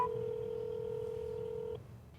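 A telephone keypad sends one steady dual-tone dialing beep that cuts off after about two seconds, leaving a quiet line hiss.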